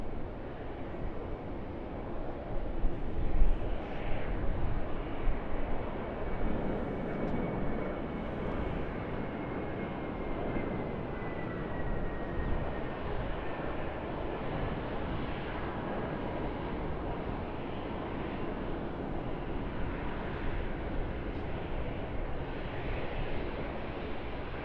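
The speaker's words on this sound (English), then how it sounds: "Jetstar A320." Jetstar Airbus A320 airliner departing Sydney Airport, a steady distant engine roar with a faint whine drifting across, continuous and moderately quiet with light wind noise, no talking.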